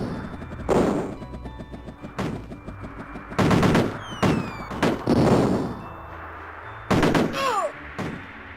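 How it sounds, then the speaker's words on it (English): Repeated explosive bursts from grenades in the Amiga game Cannon Fodder, several sharp booms spaced across the stretch over a busy background of game sound effects and music. "It's rather persistent as it spams you with grenades."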